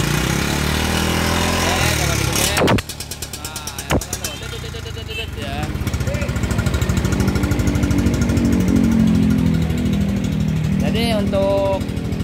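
Yamaha X-max scooter with an upgraded camshaft and CVT revving in a workshop, the engine note rising and falling through several throttle blips over a loud idling drone, with people talking nearby.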